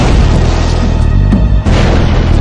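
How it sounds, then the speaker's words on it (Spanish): An experimental explosion test tied to a North Sea blast investigation gives a heavy, sustained booming roar that fills the short stretch, loud and low with a brief dip near the end. "Los investigadores realizaron una serie de simulaciones computadas y explosiones experimentales."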